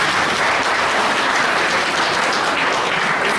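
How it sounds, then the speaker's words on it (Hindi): A classroom of children claps for classmates who answered, a dense, steady burst of many hands sustained evenly for a few seconds, fairly loud and with no voices over it. "सबके लिए तालियां बजाओ जिन्होंने कहा"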